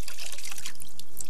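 A soldier's army beret soaks in hot water, with faint watery trickling and gentle splashing heard alone in the brief span.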